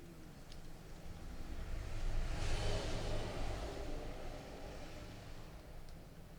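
Motorbike engine in GTA V, a quiet steady drone that swells into a rev near the middle and then settles back down to a low hum.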